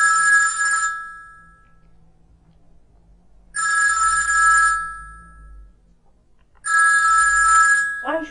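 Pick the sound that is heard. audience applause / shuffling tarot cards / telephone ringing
telephone ringing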